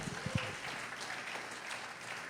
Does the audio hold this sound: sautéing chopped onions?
no